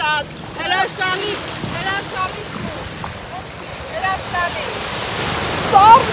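Ocean waves wash steadily onto Carpinteria beach in a broad rushing roar mixed with wind buffeting the microphone, while people talk faintly in the background.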